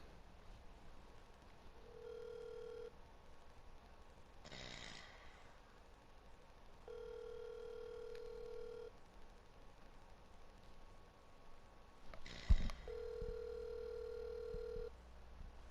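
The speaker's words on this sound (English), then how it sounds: "Alright, I'm calling him right now." An outgoing telephone call ringing tone: three long, faint tones repeating every few seconds, with brief rustling bursts and a click between them.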